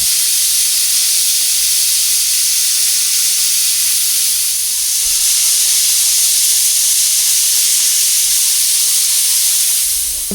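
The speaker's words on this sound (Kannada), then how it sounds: "ಕುಕ್ಕರ್ ಲಿಡ್ನ ಕ್ಲೋಸ್ ಮಾಡಿ 2 ವಿಷಲ್ಸ್ ಆಗಕ್ಕೆ ಬಿಟ್ಬಿಡಿ" A pressure cooker holding rice vents a loud, steady steam hiss that runs close and unbroken for about ten seconds, with no voices.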